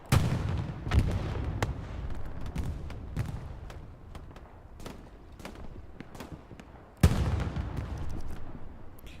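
Artillery and explosion blasts from the WWII shooter Hell Let Loose in a 49v49 match on Utah Beach, sounding as repeated sharp booms and thuds, with loud hits near the start and around seven seconds over a constant rumble of battle.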